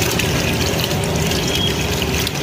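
Water pours steadily into a bucket being filled for cleaning an Ashok Leyland Dost radiator, a continuous loud rushing splash without break and no speech over it.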